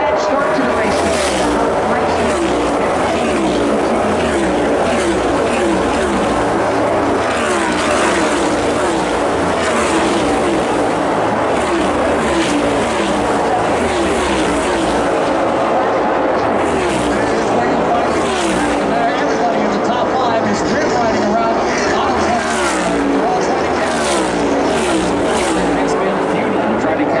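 Red and black Chevrolet NASCAR race cars roaring around the track at the 2022 Wise Power 400, a loud sustained engine drone with passing cars, under nearly constant commentary.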